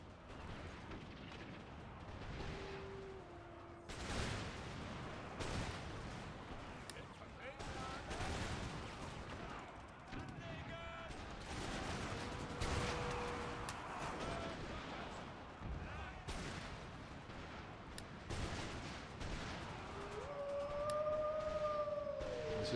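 Musket volleys in a pitched battle in Empire Total War with the Imperial Destroyer mod, Prussian forces: scattered crackling gunfire and sharp bursts throughout a dense, busy battlefield din, with faint tonal horn-like calls and a voice speaking over it.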